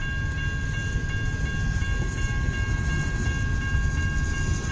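A CN freight train rolls steadily past at close range in Kimball Township, a continuous loud rumble and rattle of wagons with a faint steady tonal whine, no voices.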